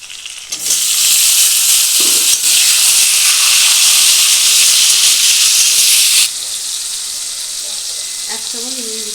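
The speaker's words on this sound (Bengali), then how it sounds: "পেঁয়াজটা ভাজা হয়ে গেছে, এর মধ্যে এবার টমেটো দিয়ে দেবো।" Tomatoes hit a pan of frying onions for a Bengali potol chingri curry. Loud, dense sizzling hiss bursts up and holds steady, then settles to a quieter, continuous fry, with a faint clink or stir near the end.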